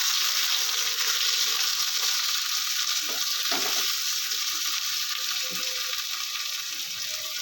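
Onion paste sputters and sizzles in a hot pan, a bright, unbroken hiss with faint low stirring scrapes underneath, close and fairly loud throughout.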